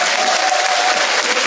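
A church congregation applauding, a dense continuous wash of clapping from many people, loud and even throughout.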